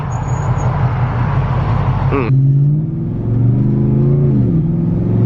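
A car engine hums and then revs, its low droning pitch rising and falling in steady swells, with a voice speaking over the first part.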